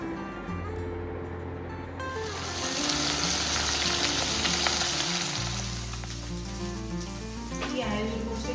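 Pieces of fish fry in hot oil with a loud, continuous sizzle that swells after the first couple of seconds, close up, with low humming underneath.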